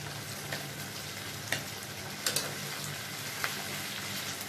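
Garlic, tomato and onion frying in a pan for sweet and sour chicken make a quiet, steady sizzle with a few soft crackles and pops scattered through it.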